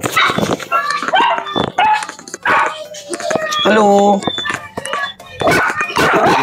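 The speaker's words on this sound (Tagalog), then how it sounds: "Oh, maingay ang aso." A dog barks and yips repeatedly in short bursts close by, mixed with people talking over it.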